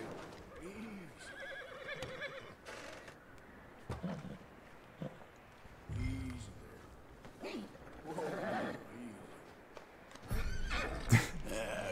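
Horse neighing and whinnying several times in Red Dead Redemption 2, with hoof clip-clops and rustling as someone speaks calmly to soothe the animal.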